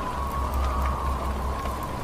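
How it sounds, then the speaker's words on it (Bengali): Steady rain falls outside as a sound effect in a horror audio drama, a constant even hiss with no breaks and no voices. "বাইরে এক টানা বৃষ্টির শব্দ আসছে,"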